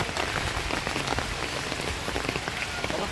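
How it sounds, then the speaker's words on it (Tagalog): Heavy rain pours down steadily, a dense, loud, unbroken hiss of drops drumming on surfaces close by, with no voices over it. "Grabe po mga kalingap, lakas ng ulan."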